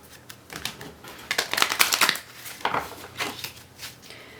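Stiff gemstone cards riffle and snap together in several quick bursts, close up, with soft shuffling rustles between them.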